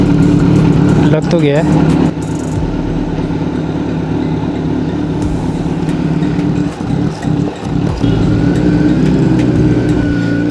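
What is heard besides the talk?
Kawasaki Z900 motorcycle engine with dB killer fitted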